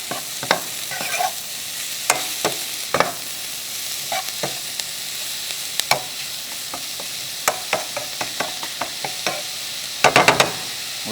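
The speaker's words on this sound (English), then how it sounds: "And then we're just going to let that gently saute and cook." Julienned peppers sautéing gently in a pan, a low steady sizzle punctuated by frequent sharp clacks of a utensil stirring and tapping the pan, irregular and close, with no one talking.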